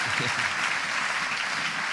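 Audience applause at a church service for a person named Dani, a steady, dense wash of clapping from a room full of people, sustained and even throughout with no talk over it.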